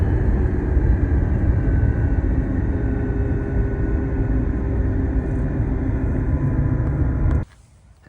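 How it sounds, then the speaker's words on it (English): A 2020 Toyota Tacoma TRD Off Road with stripped pinion bearings, driving with a loud, steady drone and road roar from the cab that holds for about seven seconds before cutting off abruptly. "you can hear just how it sounds when I'm driving"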